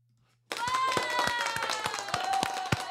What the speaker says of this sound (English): My applause.